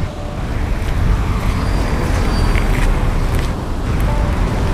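Road traffic with cars passing on a street, a steady broadband rumble of tires and engines with wind, moderately loud and continuous without distinct individual passes.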